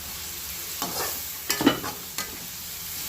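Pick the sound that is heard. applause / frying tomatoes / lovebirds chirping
frying tomatoes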